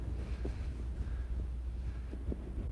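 Wind buffets the microphone in a steady low roar, with occasional louder gusts thumping through.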